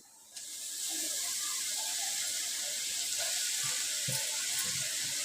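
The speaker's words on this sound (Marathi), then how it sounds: "मी ही भाजी टाकते ढवळून" Fenugreek leaves drop into a hot pan with a sudden sizzle that settles into a steady hiss, broken by scattered scraping knocks of stirring.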